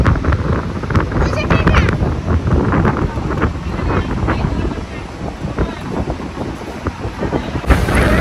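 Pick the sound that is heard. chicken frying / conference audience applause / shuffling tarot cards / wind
wind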